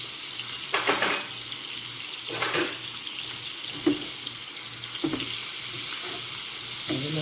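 Scallops searing in butter in a hot pan, a steady close sizzle with a few louder crackling bursts and utensil scrapes.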